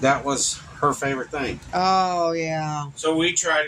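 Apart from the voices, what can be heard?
No everyday noise stands out behind the speech.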